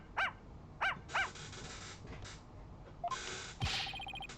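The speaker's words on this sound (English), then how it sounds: "Can't you quiet that yappy mutt down?" Three sharp barks from a small dog in a courtroom adventure game, evenly spaced near the start, followed by electronic beeps and chiming game interface sounds, with no talking.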